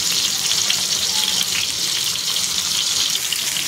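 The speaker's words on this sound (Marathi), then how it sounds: "इथे एका तव्यामध्ये मी एक एक करून ते तेल टाकून आपण ठेवून घेणार आहोत आणि अलटी पलटी करून आपल्याला ते शिजून घ्यायचे आहे।" Stuffed bitter gourds fry in oil on a griddle with a steady, loud sizzle that continues evenly throughout and is heard alone.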